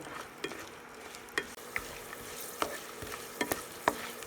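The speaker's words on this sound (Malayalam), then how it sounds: "നമ്മൾ കട്ട് ചെയ്ത് വെച്ചേക്കുന്ന വെളുത്തുള്ളി അതിനകത്തോട്ട് ഇട്ട് കൊടുക്കാം. എന്നിട്ട് ജസ്റ്റ് ഒന്ന് വഴറ്റിയെടുക്കുക." Chopped garlic sautéed in hot oil with fried mustard seeds for kolinchi pickle, a steady sizzle broken by repeated sharp clicks and scrapes of a spoon stirring in the pan.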